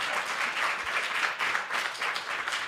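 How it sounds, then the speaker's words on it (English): An audience at an evening club event bursts into applause, a dense continuous wash of many hands clapping that stays fairly loud and steady throughout. "Round of applause for everybody."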